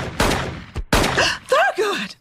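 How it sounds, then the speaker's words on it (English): Gunshots from inside a building in an animated TV comedy episode, heard as a few sharp loud bangs spread over two seconds, followed by a groaning, sliding vocal sound. "those gunshots came from inside the building"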